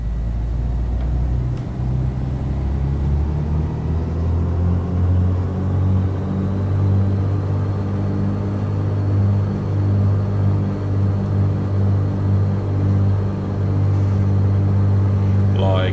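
A twin piston engine in a Grand Duke aircraft flight sim holds a steady run-up near 2000 RPM, a loud, constant droning rumble with layered harmonic tones that rises slightly and stays even throughout.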